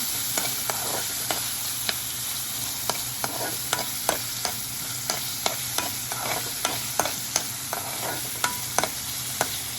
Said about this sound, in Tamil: வெங்காயம், பூண்டு, வடகம் போட்டு தாளிச்சிட்டு வெங்காயம் போட்டு நல்லா வதக்கிக்கிறோம்